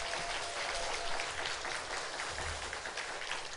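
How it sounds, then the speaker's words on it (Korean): A church congregation gathered for a Sunday service claps warmly in a steady, dense wash of applause that fills the room evenly from start to finish without any voices. "여러분 다시 한번 뜨겁게 박수 한번."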